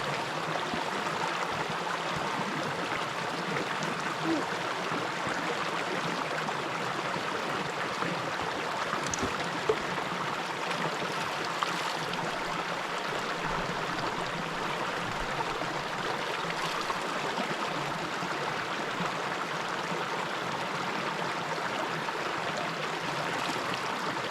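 Steady rushing of a mountain stream flowing nearby on a wilderness hike in grizzly country, a continuous broadband wash of water with no voices, close and even throughout.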